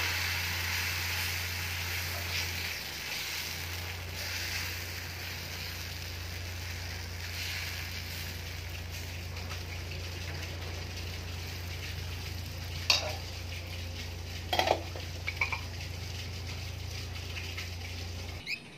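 Egg and milk batter fries steadily in a pan, a continuous soft sizzle with low hum underneath and a few brief scraping clicks near the end, no talking.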